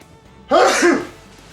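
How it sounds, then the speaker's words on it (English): A single close, forceful sneeze bursts out after a quiet moment, then fades quickly. "Yeah, I know, I sneezed"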